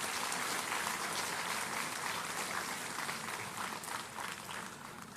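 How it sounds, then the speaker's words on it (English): A loud, continuous round of applause from a campus audience at an industry-institute event, thick and even from start to finish, gradually easing slightly near the end. "A very, very loud round of applause to them."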